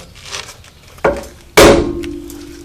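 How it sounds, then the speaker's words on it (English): Two sharp metallic hammer strikes on a car's tie rod, the second louder and ringing out with a sustained tone as it fades. "Then you whack it here with a hammer."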